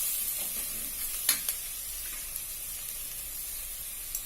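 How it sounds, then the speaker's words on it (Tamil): Vegetables frying in a pan for horse gram veg biryani, stirred in with chili, turmeric, coriander and biryani masala powders; a steady hiss with a couple of sharp utensil scrapes and clinks, no talk. "மிளகாத்தூள், மஞ்சள்தூள், தனியாத்தூள், பிரியாணி மசாலா நல்லா மிக்ஸ் பண்ணிடுங்க"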